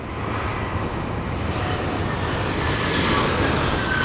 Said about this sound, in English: It sounds like a small plane.